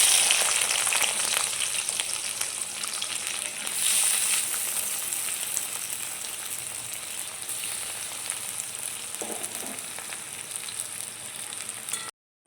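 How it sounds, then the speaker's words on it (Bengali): Onions frying in hot oil with whole garam masala, a dried red chilli, bay leaf and cumin seeds for a Bengali fish-head cabbage curry: a steady, close, hissing sizzle that runs unbroken for about twelve seconds. "ফোড়নটা হয়ে গেছে, এবার পেঁয়াজ দিয়ে দেবো।"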